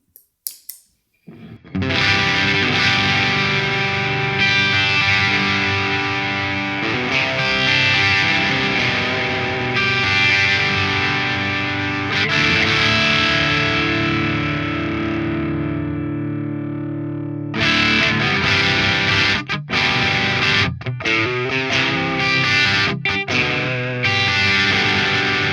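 Distorted electric guitar through a PRS effect pedal: chords ring out loud and sustained with a thick effected tone, a brief pause, then choppier riffing with sharp stops near the end.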